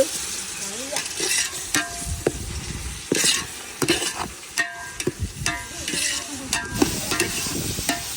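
Onion, cinnamon and cloves sautéing in oil in a pan, a steady sizzle broken by repeated scrapes and clinks of a spoon stirring against the metal, close and irregular.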